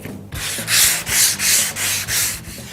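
Hand sanding with a yellow STYLE-LINE Soft-Sanders block on car louvers, prepping for paint or color sanding. Five steady, close back-and-forth rasping strokes in an even rhythm, with no talking.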